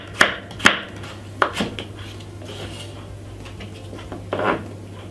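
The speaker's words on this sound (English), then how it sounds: "So basically I'm just cutting up some carrot" A knife chops carrot on a cutting board in a few crisp, separate strikes, two quick ones, then a pair after a pause, and a final rougher cut, over a low steady kitchen hum.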